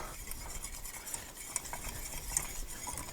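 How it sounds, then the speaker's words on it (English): A sauce is stirred in a pot as it heats toward a boil, a steady soft scraping and swirling with a few small metallic clinks of the spoon against the pot, close by and without talk. "Now we go ahead and add the heat back to it and just stir it as it comes to a boil."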